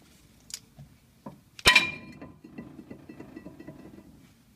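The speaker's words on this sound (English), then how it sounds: "you can just give it a good whack and it should disengage from the wheel hub" A brake rotor on a Toyota Camry Solara struck loose from the wheel hub: one sharp metallic clank rings briefly after a couple of softer knocks, followed by faint low rattling and shuffling nearby.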